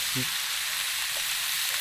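Steady sizzling of pork neck frying in a pan at a campsite, a constant hiss with a brief low tone near the start, no talking.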